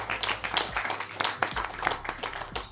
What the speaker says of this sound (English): Clap for Mykonos, Greece.